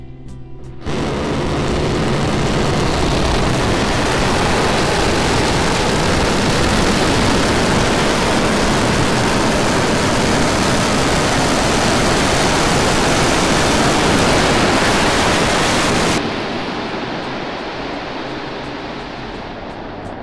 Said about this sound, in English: We're preparing to light 3 Raptor engines to begin the flip sequence.